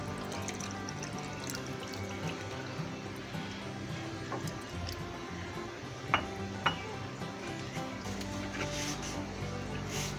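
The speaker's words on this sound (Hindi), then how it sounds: "ये इसमें पानी शामिल करेंगे।" Water runs and splashes into a bowl of raw beef liver with occasional clinks of dishware, steady and close, without talking.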